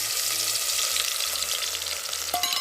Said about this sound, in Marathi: तेल गरम झालेलं आहे त्याच्यामध्ये आपण बारीक करून घेतलेलं लसूण टाकू